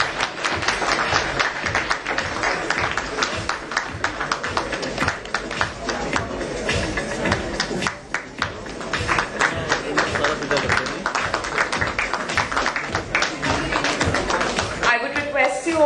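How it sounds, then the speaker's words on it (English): Sustained audience applause for guests at an education leaders summit panel discussion, dense rapid clapping filling the room steadily throughout, loud and close, with no pause. "Can you please give them a huge round of applause?"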